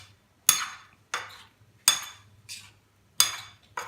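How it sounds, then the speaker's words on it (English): A spoon stirs mangoes into syrup in a bowl. It gives about six sharp clinks and scrapes against the dish at an uneven, unhurried rhythm, close by and with quiet gaps between strokes. "And mix well."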